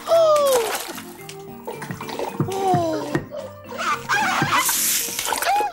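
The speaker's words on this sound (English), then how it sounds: "And with a happy cry, Seymour leapt into the water." A seal leaps into icy water in an audio story effect: a happy cry and bursts of splashing, mixed with music and other voices.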